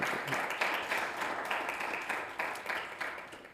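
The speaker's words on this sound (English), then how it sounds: "a great round of applause," Applause for a distinguished panel at an international conference, heard as a faint, soft patter of clapping with a pulsing rhythm that swells and fades slightly, distant-sounding and without talk.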